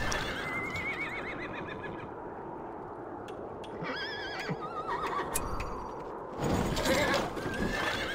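Horses of the Rohirrim riding in the video game Battle for Middle-earth, with repeated whinnies and neighs over a steady rumble of clopping hooves and battle din, swelling louder toward the end.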